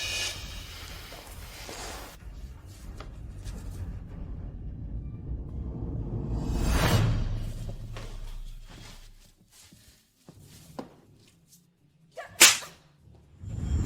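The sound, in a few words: slaps to the face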